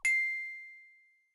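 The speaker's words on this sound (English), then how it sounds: "Oh, my phone. It's a text from an unknown number." A phone text message alert in the video game Piper's Pet Cafe, a single bright chime that rings out and fades smoothly over about a second, clean and alone.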